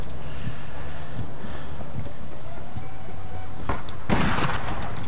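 Gunfire in the online shooter APB Reloaded, a few sharp bursts of shots landing in the last second or two over a noisy street-fight background, the loudest crack near the end.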